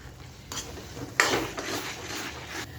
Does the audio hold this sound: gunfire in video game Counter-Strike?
no